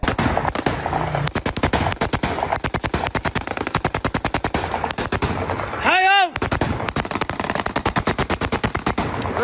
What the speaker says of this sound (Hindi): देखिए इन गोलियों की तड़तड़ाहट को आप सुनिए